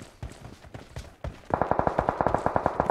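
Rapid, evenly spaced automatic gunfire from the mobile game PUBG Mobile bursts out after a moment of quieter thumps, each shot crisp and mid-distance in a steady rattling stream.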